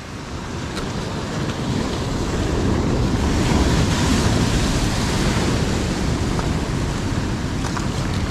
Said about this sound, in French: Regarde la vague là,